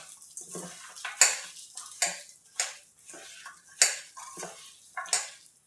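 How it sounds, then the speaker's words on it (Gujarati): Spice filling for stuffed chilli fritters being mixed by hand in a bowl, heard as a series of close, irregular squishing and clinking pulses about every half second to second, with no one talking. "બધું આપણે હાથેથી મિક્સ કરી લેશું."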